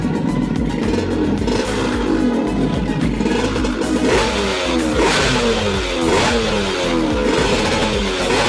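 A Yamaha RX King two-stroke motorcycle engine with a PE carburetor, membrane and racing ignition revs hard up close, rising and falling through several sharp throttle blips with a crackling, buzzy exhaust and no talk.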